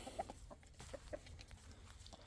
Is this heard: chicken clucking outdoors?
yes